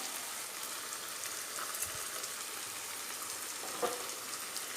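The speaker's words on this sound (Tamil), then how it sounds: "தக்காளி பழம் நல்லா வதங்கட்டும்" Chopped tomatoes with salt sauté in a pan for vatha kuzhambu, giving a soft, steady sizzle that runs evenly throughout, with a couple of faint stirring knocks.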